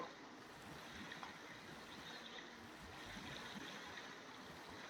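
Waterfalls in the video game Jurassic World Evolution 3 give off a soft, continuous rushing wash of water, steady and fairly faint, with no talk over it.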